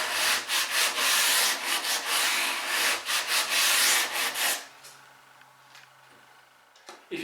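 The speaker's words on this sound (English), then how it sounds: "then sand as normal right up to your block" Wood being sanded by hand with sandpaper on a block, up to a guide block at a joint line; steady, close rasping strokes for several seconds, then they stop, leaving a quiet room with a faint hum.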